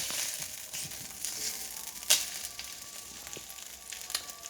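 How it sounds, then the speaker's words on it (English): Bologna slices frying in a pan, a faint, steady crackling sizzle broken by a few brief sharper pops, heard close with no talk. "depending how much you want to cook your bologna, you want to cook it burnt or you just want a little bit cooked between"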